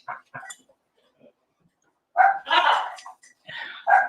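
A dog barks a few times nearby, short loud bursts separated by quiet gaps, with softer yips and small sounds around them.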